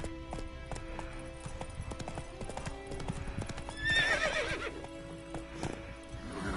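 Rhythmic horse hoofbeats in The Witcher video game clatter steadily at a brisk pace, joined by a loud horse whinny partway through, with a faint voice briefly underneath.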